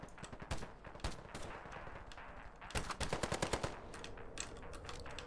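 AK-74M rifle fire in the shooter game Ironsight, rapid bursts of sharp automatic shots in quick clusters, loud and close, with a long sustained burst near the end and no talking.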